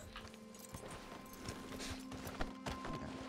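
Horse hooves clip-clop in a quick, uneven rhythm in Red Dead Redemption 2, a few close steps over a steady low game ambience with no one speaking.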